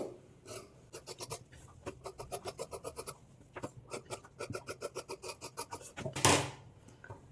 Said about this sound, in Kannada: ನಾನಿಲ್ಲಿ ಔಟ್ಲೈನ್ಸ್ ಮಾತ್ರ ಕಟ್ ಮಾಡ್ಕೊಳ್ತಾ ಇದ್ದೀನಿ